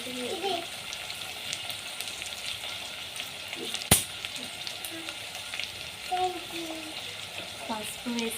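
Onions and green chillies hit hot oil in a pan for a Nellore-style mango fish curry, giving a steady close sizzle with occasional stirring clinks and one sharp knock, while a voice speaks softly in the background.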